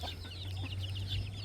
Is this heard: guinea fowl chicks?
yes